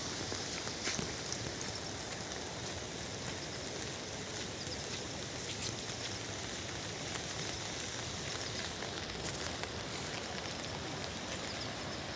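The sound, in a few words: rain falling at Kedarnath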